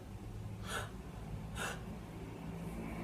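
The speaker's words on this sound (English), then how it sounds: "imagine, for a start, if it helps, that you breathe in, inhaling really fast, as if you had a shock" Two sharp, fast inhales of a sudden gasp as if from shock, spaced about a second apart over a steady low room hum, close and fairly quiet with no talking.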